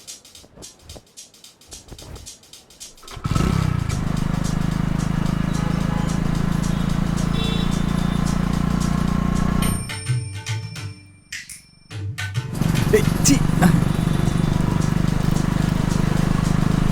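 A motorbike engine starts with a sudden rise and then runs at a steady, fairly loud drone. It cuts out briefly and then resumes, the rumble continuing to the end with no clear speech.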